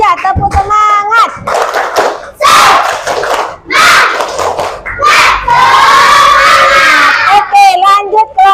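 Loud group chanting with rhythmic clapping from a crowd of young people at an Indonesian event, repeated shouted bursts close by, with some speech between rounds.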